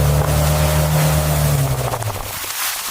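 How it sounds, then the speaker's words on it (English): A boat engine roars through heavy rain on floodwaters, a loud close drone with a steady low hum that fades and drops in pitch as wind and rain noise take over. "a roaring engine cut through the roar of the rain"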